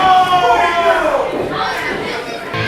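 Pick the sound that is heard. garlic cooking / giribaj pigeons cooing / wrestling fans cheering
wrestling fans cheering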